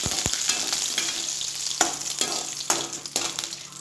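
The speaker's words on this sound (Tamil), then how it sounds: "இப்போ கொஞ்சம் கருவேப்பிலை போட்டுக்கோங்க." Curry leaves go into hot frying oil with roasted urad dal for a tomato chutney, crackling in sharp bursts over a steady close sizzle, with no talk.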